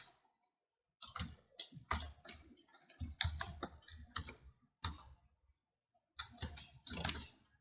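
Fingers tap a computer keyboard, entering a username and password in quick irregular bursts of clicks separated by brief pauses, close and fairly quiet.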